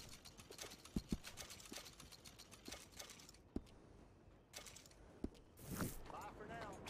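Horse hooves in a video game (Red Dead Redemption 2) clop in a loose walking rhythm on a hard surface, joined by intermittent clicks and a brief voice near the end.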